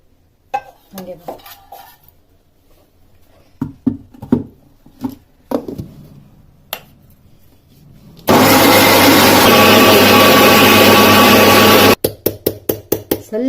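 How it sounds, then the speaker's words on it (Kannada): A mixer grinder whirs loudly and steadily for about four seconds, grinding roasted ridge gourd peel and other ingredients into chutney, with clinks of utensils, knocks and handling of the jar before and after. "ಈಗ ಇದನ್ನ ಮಿಕ್ಸಿಗೆ ಹಾಕೋಣ."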